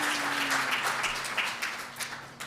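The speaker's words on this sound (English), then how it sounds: "Let's give them a round of applause" An audience applauds musicians from a cultural arts collective at an awards presentation, a steady wash of clapping from many hands that holds fairly level throughout, with a faint tonal hum running underneath.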